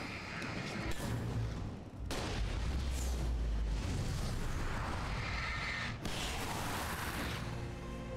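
A flare gun shot and explosion in the video game Alan Wake Remastered: loud booming blasts with sharp onsets about every two seconds, followed by a sustained roaring, rumbling wash.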